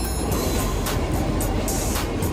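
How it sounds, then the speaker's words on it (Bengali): A train passes a level crossing in Bangladesh, a steady broad rumble of rail cars rolling by close and loud, with no talk over it. "ট্রেন আসছে।"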